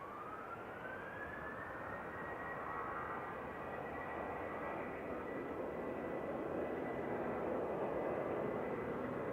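A 17-year-old Boeing 737-800 jet departs Manchester Airport for Bodrum, a faint, distant engine roar with a rising whine that slowly builds and broadens.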